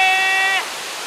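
A steady, loud rush of falling water at the Ganryuji waterfall in the Iwami region of Shimane, Japan, with a brief vocal tone from a person at the very start.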